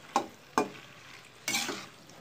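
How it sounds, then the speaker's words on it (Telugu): Macaroni pasta being stirred into masala in a pan: three brief scraping strokes, each a short broadband burst with a gap between, the last one longer, all close and fairly quiet. "పాస్తాను వేసేసి కలిపేసేసుకుంటే"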